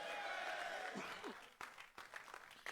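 Scattered applause from a church congress audience at a men's conference, a spread of clapping that thins and fades, with a few louder claps near the end, very quiet overall.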